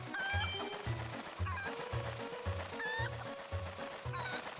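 Chickens cluck in a steady, repeating pattern amid game ambience and music in the video game Zelda Twilight Princess HD, with several hens calling one after another at moderate loudness.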